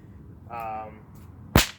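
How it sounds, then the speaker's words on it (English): A whip is cracked right beside the ear, producing a single sharp, very loud snap preceded by a brief whooshing swish of the lash. "be careful with this crack because it is the closest to your ear"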